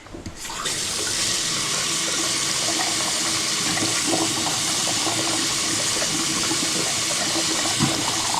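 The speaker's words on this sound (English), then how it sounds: "We're gonna go rinse this one out" Steady, loud rush of running water from a tap, rinsing out a slime-filled mountain bike inner tube, continuous and close with no talking.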